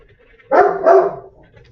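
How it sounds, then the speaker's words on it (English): A dog barks nearby, giving one loud double bark that lasts under a second and stands out clearly against a quiet background. "It wouldn't be allowed without a train or Molly barking."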